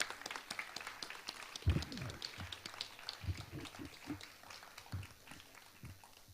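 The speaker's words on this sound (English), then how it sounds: "can we please have another round of applause for Ms. Dipna Patel?" Audience at a TEDx youth event applauding, scattered claps and quiet room noise at low level with a few thumps, fairly faint and thin rather than a full ovation.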